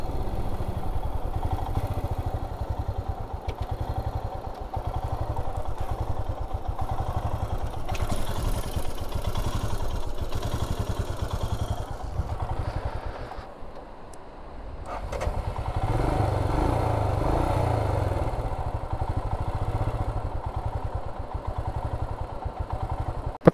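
A motorcycle engine running rough chugs and clatters steadily and loudly for a long stretch, dipping briefly in the middle before picking back up unevenly.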